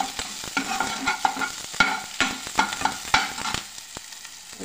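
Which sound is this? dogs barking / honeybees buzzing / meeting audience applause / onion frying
onion frying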